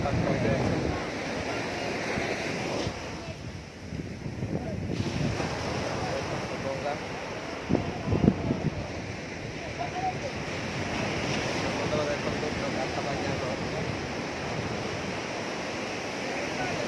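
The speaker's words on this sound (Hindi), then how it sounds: "समुद्र" Sea waves wash onto a shore in a steady, moderately loud rush, with wind buffeting the microphone and a brief knock partway through.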